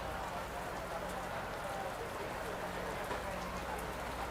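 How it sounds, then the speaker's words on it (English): Steady rain pouring over an outdoor sports field during a match, a dense continuous hiss without pause, with faint voices in the background. "nobody getting off their seats, Anthony, with all the rain"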